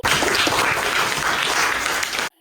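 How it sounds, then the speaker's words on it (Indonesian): A class of schoolchildren applauds a pupil during a lesson on cultural diversity. The clapping is full and continuous, then cuts off abruptly just before the end. "Tepuk tangan untuk Seruni."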